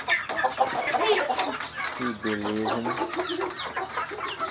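A chicken clucks close by in a rural farmyard, its steady clucking running under a person speaking nearby, with one clear drawn-out call near the middle.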